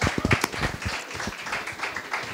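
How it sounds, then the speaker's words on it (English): An audience claps at an OTT award show event, opening with several close, distinct claps that blend into a steady wash of applause from many hands, moderately loud with no talking. "You can clap for yourself."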